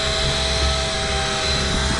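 An electric fishing reel winds line in high gear while deep-drop fishing for groper and blue-eye trevalla, giving a steady, loud, close mechanical whine with no break.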